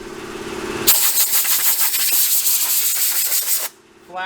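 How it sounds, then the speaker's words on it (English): Sander working flat against a plastic 1985 ATC250R gas tank, producing a loud continuous abrasive rubbing hiss that starts abruptly, holds for about three seconds, then cuts off. "you want to kind of keep this sander flat"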